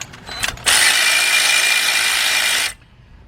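A ratchet tightening a bolt on the 3.6 engine of a 2005 Cadillac CTS during oil pan work, a few faint clicks and then a loud continuous buzzing whir for about two seconds that stops abruptly, close-up.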